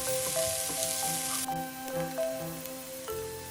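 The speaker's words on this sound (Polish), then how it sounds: "Następnie wrzucamy paprykę, papryczkę chili i czosnek, smażymy razem około 3 minuty." Peppers, chili and garlic sizzle and crackle steadily in a hot pan, close up, with a constant frying hiss and occasional clinks and stirring.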